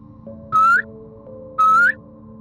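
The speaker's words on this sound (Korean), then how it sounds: "휘파람을 폐가 앞에서 술김에 2번을 불었어요" A person whistles twice in front of an abandoned, burnt-out house in Gangwon-do: two short, clear notes that each slide upward in pitch, evenly spaced over a steady low hum.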